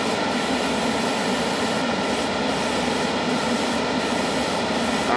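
A spray booth extraction fan for airbrushing a Tamiya 1/32 Vought F4U-1 Corsair model kit with Mr. Hobby paint, running as a steady, loud broadband whoosh throughout without talk.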